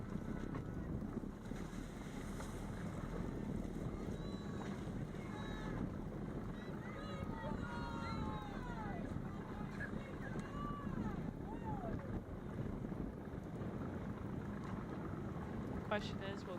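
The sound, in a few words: strong wind on the water at a sailing regatta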